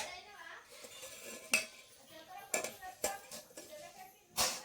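Bowls and dishes being scrubbed clean at a sink, with scattered clinks and knocks of metal and crockery among soft scraping, fairly close, while a voice talks faintly in the background.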